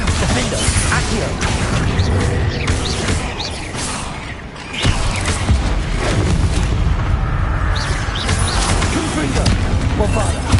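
Bombarda and Confringo spell explosions in a Hogwarts Legacy tomb: loud, continuous booms, crashes and rumbling impacts pile up with a brief dip midway, while a voice talks over the blasts.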